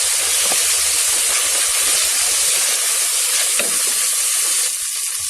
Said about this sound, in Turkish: Bir yemek kaşığı salçamı ekliyorum. Şöyle biraz kavuruyorum.